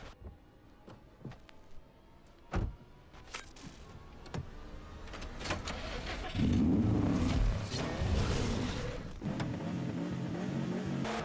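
A Subaru in Forza Horizon 4, wearing a livery, drives through a sequence, its engine building from scattered thumps and clatter into a steady, loud roar with rising revs.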